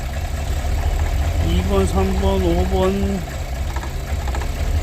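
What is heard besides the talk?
Cadillac Escalade engine idling with misfire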